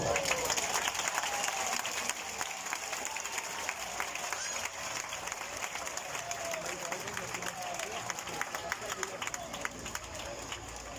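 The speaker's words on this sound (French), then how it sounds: "je vous prie de saluer par un applaudissement" Audience applause at an outdoor Saint-Louis festival jousting tournament, a steady broadband wash of clapping that holds evenly at moderate level throughout, with crowd murmur and an announcer's voice running underneath.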